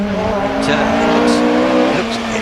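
A Ford Anglia hill climb car powers up the course at a championship meeting at Shelsley Walsh, its engine droning steadily and loudly at high revs under excited commentary.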